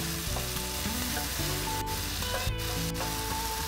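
Tomatoes cooking in a hot pan for a shrimp and tuna pasta sauce, giving a dense continuous sizzle close up with a few quick stirring scrapes, no voices.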